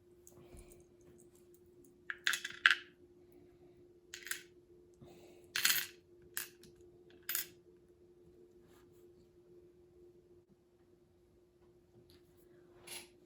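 Dice tumbling and clattering on a surface, a series of short sharp clicks and rattles in several bursts, fairly close, over a low steady hum with no talk.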